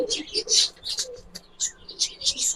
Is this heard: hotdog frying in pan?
no